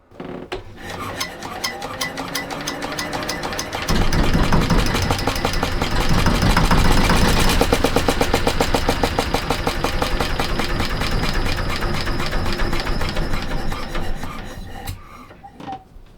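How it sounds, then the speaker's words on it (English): Inboard engine on a restored wooden boat cranking and catching, then running steadily and loudly for several seconds with a dense mechanical rattle before cutting out near the end; no talking. "I'd like to get this motor started today"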